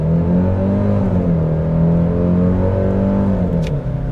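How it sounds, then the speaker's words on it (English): A Genesis GV70 2.5T four-cylinder SUV launches from a stop with traction control on, its engine droning loud and steady as revs climb and fall with shifts, close and sustained throughout. "Try to do it very quick. I'm gonna leave the traction on, foot on the brake and accelerator."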